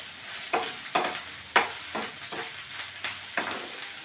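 Onion, green chilli and curry leaves frying in a pan, a constant close sizzle punctuated by seven or eight sharp scraping stirs at fairly regular intervals.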